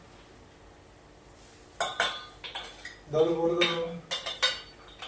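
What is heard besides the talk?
washing dishes and utensils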